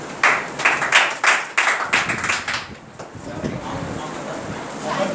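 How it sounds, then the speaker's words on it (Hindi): A Class 8 classroom gives a student a round of applause, loud rhythmic group clapping in quick bursts that fades out into scattered claps and room noise. "चलिए, जोरदार तालियां।"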